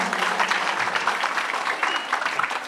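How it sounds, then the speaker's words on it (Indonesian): Steady applause from a talk show audience, a dense patter of clapping hands that holds at an even level throughout, fairly close. "Sekali lagi tepuk tangan untuk Ibu Ayu"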